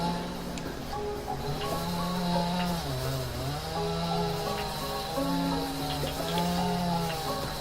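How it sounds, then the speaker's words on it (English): Chainsaw in the Dinkum video game used to mow a lawn: a steady buzzing engine drone that rises and dips in pitch as it revs, continuous and fairly close, with a faint background hum. "Did y'all know that the chainsaw can be used to mow lawns too?"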